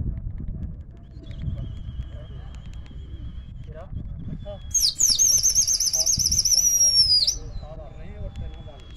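A continuous engine-like drone runs under several overlapping voices, with one bright, wavering whistle or bird call in the middle, and no clear wingbeats stand out.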